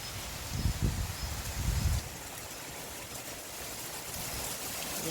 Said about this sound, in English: it's just started raining heavier just as I open the front door.